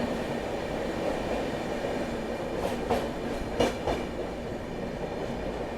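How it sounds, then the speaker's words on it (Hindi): Humsafar Express passenger train pulling out on departure and gathering speed, a steady loud rumble of wheels and carriages with a few rhythmic clacks over rail joints, heard close from on board. "और क्या एक्सेलरेशन किया है अपनी ट्रेन ने, ज़बरदस्त"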